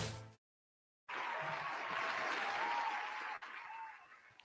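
Audience applause and cheering at a live morning energy event, a dense steady wash of clapping that starts abruptly after a brief silence and carries on for about three seconds before thinning.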